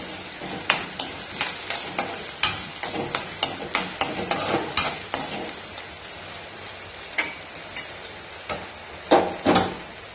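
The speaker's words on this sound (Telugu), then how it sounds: "క్యారెట్ కొంచెం వేగిన తర్వాత బీన్స్, కొంచెం వేగనివ్వాలి." Carrots and green beans fry in a pan as a spatula scrapes and taps the metal in irregular strokes over a soft background sizzle, with no one talking.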